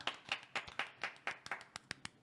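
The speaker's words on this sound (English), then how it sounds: "We should applaud with that." A group claps their hands in applause during a podcast conversation: about ten quick, sharp claps in a loose, slightly uneven rhythm, close and moderately loud, with no talking over them.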